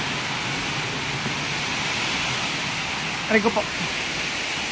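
Water leaking from a pool on a roof runs in a steady broad hiss throughout, with a brief spoken phrase partway through.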